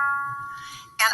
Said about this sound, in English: So I usually play the harp with my fingers, plucking the strings like this.